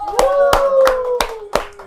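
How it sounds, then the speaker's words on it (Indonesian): Five sharp, evenly spaced hand claps ring out at a steady rhythm, close and loud, over a sustained tonal voice or music underneath. "Tepuk tangan lomba-lomba Ngopot."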